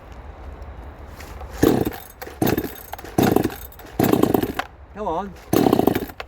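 A Red Nut 58cc Chinese chainsaw revs in several loud bursts over a steady low idle, with brief pauses between throttle blips, while someone speaks briefly nearby.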